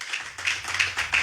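A church congregation at a French-language service claps in steady rhythm, quick sharp claps repeating a few times a second with a faint low hum underneath.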